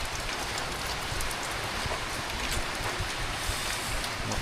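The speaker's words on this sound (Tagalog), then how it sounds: "So umuulan na naman dito." Steady rain falls on surfaces outdoors, a dense continuous patter of drops close by with no talking.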